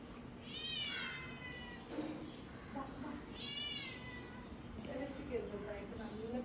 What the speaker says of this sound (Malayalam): പാവം പൂച്ച.